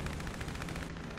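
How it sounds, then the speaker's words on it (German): Loud, rapid, rhythmic booming blasts pound continuously during a War Thunder tank battle with an Italian M11/39, dense and close with no pause. "Das klingt ziemlich nach Bomben hier."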